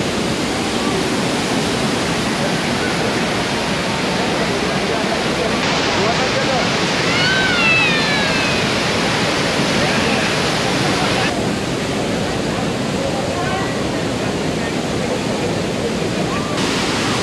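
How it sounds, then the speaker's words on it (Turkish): A powerful waterfall in Bali roars as a dense, unbroken wash of falling water, loud and close throughout, drowning out everything else. "Bir de şelale çok güçlü."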